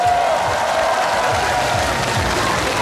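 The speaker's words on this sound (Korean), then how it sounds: "다시 한번 큰 박수 부탁드리겠습니다" A large audience claps steadily and densely at an outdoor festival concert in Geochang, South Korea, a continuous wash of applause filling the whole stretch, with a faint murmur of the crowd mixed in.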